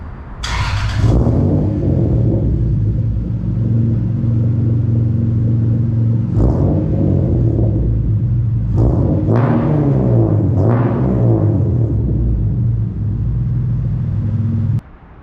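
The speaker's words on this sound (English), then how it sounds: "Let me start it up and rev it up for you guys so you guys can see what it sounds like." A 1993 Toyota Supra MK4 inline-six starts with a sharp crank, then idles with a loud, deep exhaust rumble through a custom catback, punctuated by several quick throttle blips that rise and fall, close up with no talking, before shutting off.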